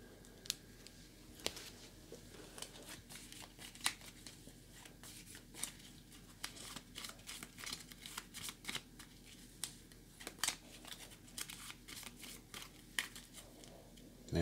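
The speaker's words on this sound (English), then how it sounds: "let's get the decks shuffled for the last time" Decks of playing cards for a board game being shuffled, a steady run of soft riffling and snapping card sounds, close and fairly quiet, with no talking.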